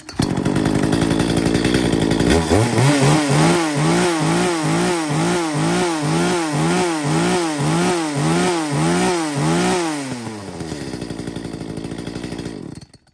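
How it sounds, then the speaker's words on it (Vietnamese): An Echo Kyoritsu chainsaw idles, then revs hard in a steady run of rhythmic throttle bursts before easing back down. It is loud and close, with no talk over it. "Con cưa Echo Kyorit."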